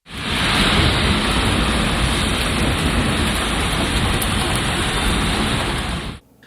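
Heavy rain shower pouring down in Elazığ, a loud, steady, dense hiss of rainfall that holds constant for about six seconds before cutting off abruptly.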